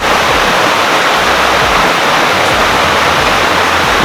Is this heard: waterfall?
yes